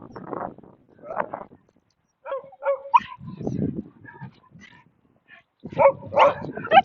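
A new dog during a training session gives short yips, barks and high whimpers close by, in scattered bursts with pauses between them, and someone talks at times.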